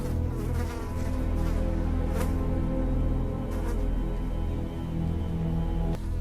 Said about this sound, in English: a fly can be heard buzzing around the room